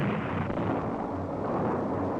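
Dynamite blasts in the rock walls of a canyon give a sustained, heavy rumbling roar with broad low-end weight that continues steadily without a clear start or stop.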